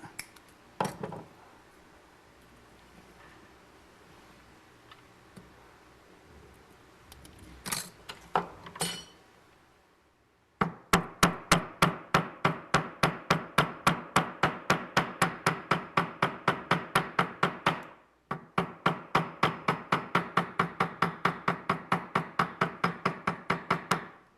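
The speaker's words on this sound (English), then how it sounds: "you choose the size of the hammer you're pounding with based on the size of the rivet you're dealing with" A hammer strikes a 1/16 inch metal rivet in an artist's metal studio. A few scattered taps come first, then long runs of rapid, evenly spaced metallic blows, close and loud, with a brief pause between runs.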